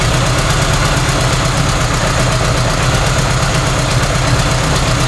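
A car engine idles loudly on its first cold start after being fitted with a single carburetor, a steady close rumbling chug with an even, slightly knocking rhythm and no talk.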